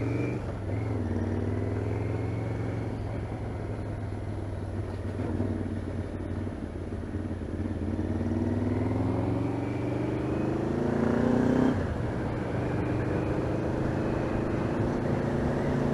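A motorcycle rides along a road beside another rider, its engine droning steadily with rising and falling pitch as it shifts, and the rush of wind runs beneath it without any talk.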